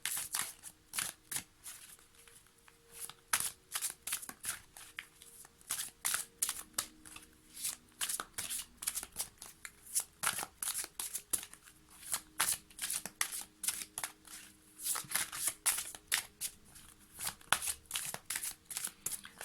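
Tarot cards being shuffled by hand, a steady run of crisp riffling bursts and soft slaps that repeats close up for the whole stretch, with no talking.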